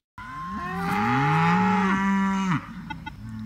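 A cow lets out one long, loud, drawn-out moo close by on a farm, its pitch bending as it goes, with faint farmyard noise after it ends.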